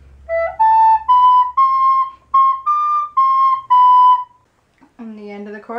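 A recorder plays the bridge of a song, a string of clear, steady held notes stepping upward with short gaps, close and bright, followed by a voice speaking briefly at the end.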